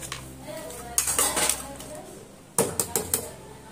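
A metal spatula stirs spiced chicken in a cooking pot in a village kitchen, giving scraping clinks and clatters in two bursts, with a short pause between.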